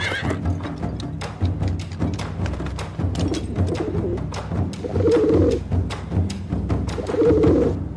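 Pigeons cooing in a courtyard, with repeated soft throaty coos and rapid fluttering wingbeats throughout, fairly close and steady, with two louder bursts of cooing toward the end.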